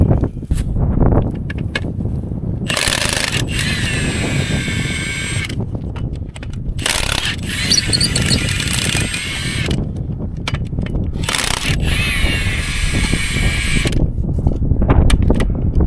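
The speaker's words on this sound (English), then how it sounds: "Notice how this impact has full power and then it kind of pauses" An impact wrench spins lug nuts off on a cotton harvest field job in Texas, firing in loud bursts of high whining hammering that cut off and restart several times, with mechanical clatter and wind between bursts.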